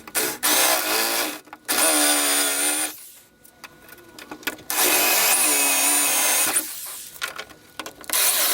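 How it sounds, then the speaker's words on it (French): A power drill bores holes through a wooden crate, giving several loud, close bursts of rising and falling motor whine with grinding against the wood, separated by short pauses. "là j'ai percé les 4 trous"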